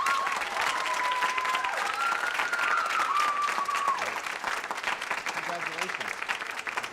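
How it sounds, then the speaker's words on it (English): An audience at a high school band concert applauds in a sustained, dense burst of clapping that fades slightly toward the end, with a voice heard briefly through it. "How about a round of applause for Niaja Watson?"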